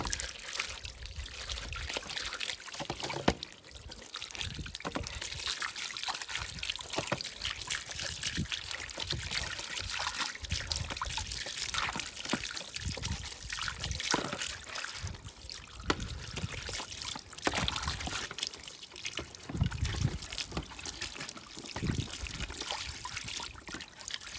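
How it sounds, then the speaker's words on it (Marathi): Tap water runs and trickles steadily over a drip irrigation filter as it is rinsed clean, a continuous splashing flow with no talk. "हे अशा पद्धतीनं पाणी सोडून याला आपण धुवून घेतोय."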